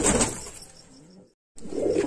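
Pigeons coo softly up close, a low rolling call that breaks off into a brief silence before resuming.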